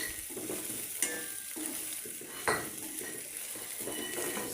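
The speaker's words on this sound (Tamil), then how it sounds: "இப்போ இதில் இருக்க கிண்டுவோம்." Turkey berries and anchovies being stirred in a frying pan, with soft scraping and sizzling and two sharper clinks of the utensil against the pan, close and alone without talk.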